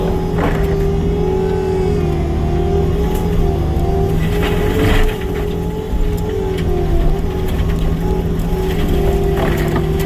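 Bobcat T76 compact track loader running a Diamond Disc mower mulcher head, a steady engine and hydraulic drone with a high whining spinning disc, continuous and close, no talking.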